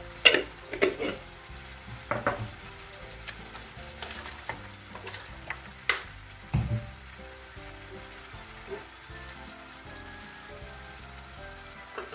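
Squid stir-fried with holy basil in a pan gives a steady low sizzle, broken by a string of sharp scraping clatters as the spatula stirs and tosses, close and fairly loud in bursts.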